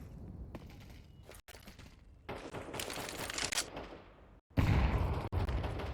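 A grenade goes off in a competitive Counter-Strike match on the Inferno map: a loud, sudden blast bursts in near the end, with scattered gunfire and game noise before it and no voices.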